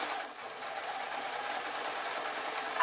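A sewing machine stitches a padded dust cover through fabric and wadding, running as a steady, continuous close-up whir with no pauses.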